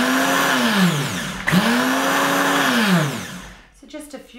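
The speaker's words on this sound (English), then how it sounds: "So our first step is to pulse the shredded coconut until it's nice and fine." A Vitamix 9200 blender pulses shredded coconut in loud, close bursts, its motor whining up and down twice in a row before cutting off into quieter clattering.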